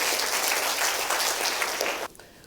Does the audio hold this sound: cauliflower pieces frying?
no